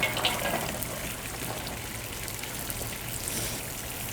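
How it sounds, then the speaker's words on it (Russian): Water pours steadily into a pot of Uzbek plov over fried carrots, a soft continuous splashing and trickling that holds an even level throughout, with no voices. "И заливаем водой."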